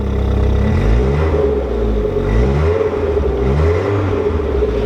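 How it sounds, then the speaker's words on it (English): A 1987 Volkswagen Jetta Mk2 engine idles with a low rumble, then revs lightly a couple of times, rising and falling in pitch, loud and close. "Give her a couple little light revs."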